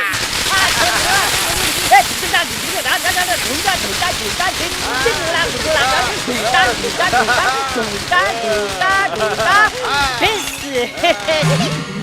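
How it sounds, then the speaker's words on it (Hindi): Firecrackers burst in a dense, continuous crackling barrage in a Chandramukhi comedy scene, loud and close, while several people talk and shout excitedly over the popping throughout. "फोड़ो रे पटाखे।"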